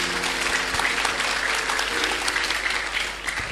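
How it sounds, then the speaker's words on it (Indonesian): An audience applauds steadily for the city's female mayor at a public gathering, a dense, continuous clatter of many hands that holds level and dips slightly near the end. "tepuk tangan untuk Ibu Wali Kota kita"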